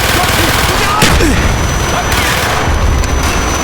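Gunfire and explosive booms from the Call of Duty: Black Ops video game, a dense, continuous barrage under loud battle noise, with shouted German voices over it.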